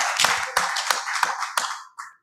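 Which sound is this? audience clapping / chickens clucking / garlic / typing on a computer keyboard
audience clapping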